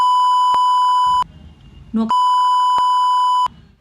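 Two long, loud steady beep tones, each about a second, separated by a short stretch of muffled low sound, then brief low noise at the end.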